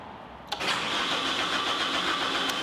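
After a brief click, the engine of a Caterpillar skid steer cranks over steadily, a continuous loud mechanical whirring and chugging that holds at an even level.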